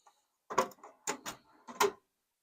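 Metal drawers of an old tool box turned camper kitchen being set up, a few sharp sliding clunks and rattles in quick bursts, close and otherwise quiet.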